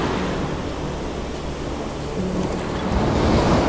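Ocean waves break on a shore at sunrise, a steady broadband wash of surf that builds toward the end as a larger wave rolls in, with some wind buffeting the microphone and no talking.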